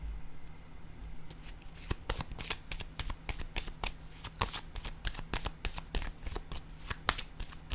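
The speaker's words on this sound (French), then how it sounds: "Je vais déposer une carte ici." Tarot cards are handled up close, a rapid run of crisp papery riffles and snaps, like a deck being shuffled, repeating steadily for several seconds against a faint hum.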